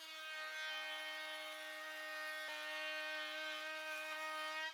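A DeWalt 2 1/4 HP router cuts a deep 3/8-inch pass through hard maple with a steady, high, tonal motor whine, close and continuous without letup.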